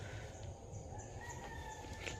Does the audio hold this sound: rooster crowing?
yes